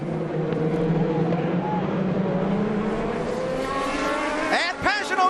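IndyCar race cars at the Indianapolis Grand Prix squeezing into a corner, a steady high engine drone from several cars with a sharp rising whine near the end, heard under excited commentary.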